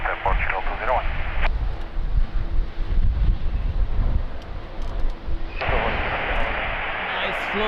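Strong wind at Lisbon Airport buffets the microphone with a heavy low rumble, while radio voices talk over it.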